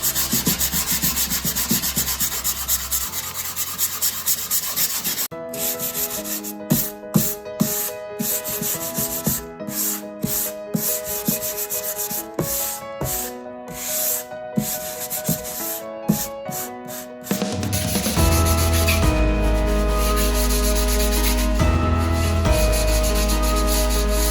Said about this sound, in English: Thankfully, my mom was able to come and help us sand the room